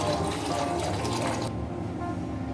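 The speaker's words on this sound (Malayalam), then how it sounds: "ഇനി അതിലേക്ക് ഒരു 6 ഗ്ലാസ് വെള്ളം ഒഴിക്കാം." Six glasses of water pour into a pot for Yemeni chicken biryani, a close, rushing gush with faint metallic rattling that drops away to a quieter hiss halfway through.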